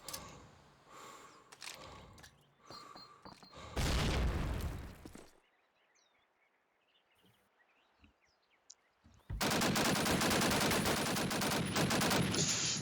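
Bursts of automatic and single-shot gunfire in Call of Duty: United Offensive during a competitive match push toward the A side, loud volleys at the start and a long sustained barrage at the end, separated by a quieter lull with faint ambient sounds.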